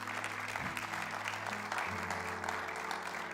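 A church congregation applauds during a Sunday service, with soft, distant clapping beneath sustained organ or keyboard tones that shift pitch.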